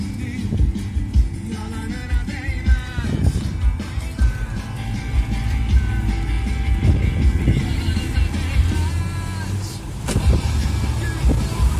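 A car drives along a mountain road near Bolu, Turkey, with a continuous engine and road rumble heard from inside the cabin, thumps and bumps throughout, and people talking over it.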